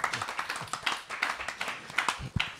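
Applause for an exhibition from a small audience, a few nearby hands clapping in uneven bursts with audible individual claps.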